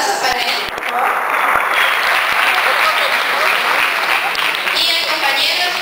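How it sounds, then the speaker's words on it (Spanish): An assembly crowd applauds for newly elected representative Erwin López at an election meeting, a steady, loud wash of many hands lasting several seconds with voices mixed in. "Un aplauso para él"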